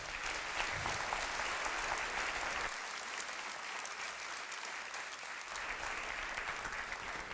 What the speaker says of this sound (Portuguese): Vamos aplaudir ao Senhor, igreja?